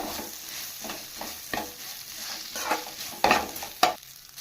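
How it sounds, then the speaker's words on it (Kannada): A spoon scrapes and stirs garlic rice in a pan over a soft sizzle, with irregular louder scrapes and clinks of utensil against metal, no talking. "ಈಗ ಇದಕ್ಕೆ ನಾನು ರೈಸ್ ಮಿಕ್ಸ್ ಮಾಡ್ಕೊತಾ ಇದ್ದೀನಿ"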